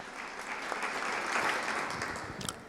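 An audience at a talk breaks into applause, a brief, steady burst of many hands clapping at moderate distance that swells slightly and then tapers near the end.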